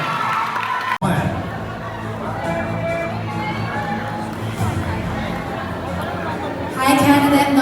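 A pageant audience at a Miss Universe Philippines Pampanga event cheers loudly for a candidate, a sustained roar of shouting and screaming voices filling the hall, swelling louder near the end.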